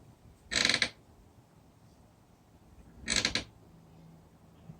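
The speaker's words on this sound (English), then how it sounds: "The creak of the chair." Two short, bright creaks from a chair, about two and a half seconds apart, each lasting a fraction of a second and standing out clearly against a quiet room with no talking.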